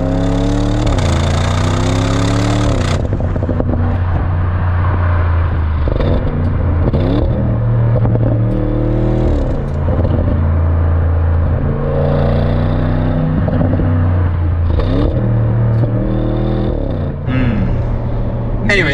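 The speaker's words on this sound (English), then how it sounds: "Let's actually put a clip of the exhaust now and you tell us what you think." A 2023 Audi RS6/RS7 Performance V8 exhaust is revved repeatedly: loud, close engine notes climb and fall in pitch through several blips and pulls, with a deep burbling idle between them and no talk over the sound.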